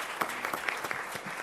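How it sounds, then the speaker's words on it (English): A school district board meeting audience applauds in a steady, dense burst of clapping that fills the room for its whole length, with no one talking. "Let's give ourselves a round of applause."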